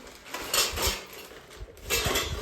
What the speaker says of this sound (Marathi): सगळ्या भांडी कुंडी घेऊन निघाले